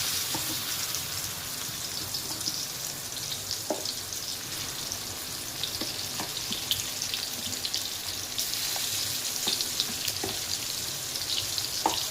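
Marinated prawns sizzle steadily in hot oil, a dense continuous frying hiss with occasional soft pops and clicks, close and fairly loud, with no voices.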